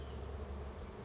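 Honey bees hum in a steady, dense buzz close by during a hive inspection, a continuous drone with no speech over it.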